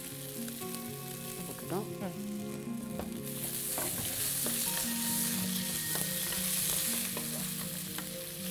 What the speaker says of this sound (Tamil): வெங்காயம் நல்லா வதங்கணும். நல்லா பொன்னிறமாக வரைக்கும்.